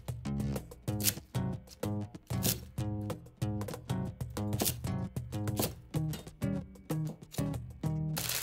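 A knife chops garlic chives (nira) into 3–4 cm lengths on a board. Quiet, rapid, irregular knocks come in short bursts, close by, with no voices.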